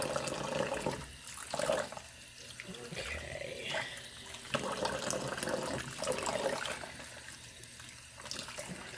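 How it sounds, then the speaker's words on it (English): Raspberries and blackberries get a quick rinse under a running kitchen tap, the water streaming and splashing steadily into the sink with uneven surges as the berries are moved about. "So I'm going to give them a quick rinse and just lay them up here where they can dry out."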